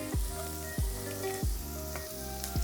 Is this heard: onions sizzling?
yes